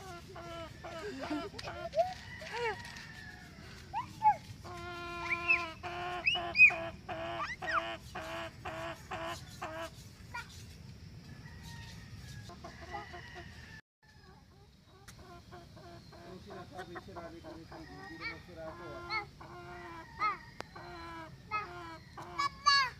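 Chickens cluck and call in repeated short bursts, close by, while people talk and laugh over them throughout, with a brief lull near the middle.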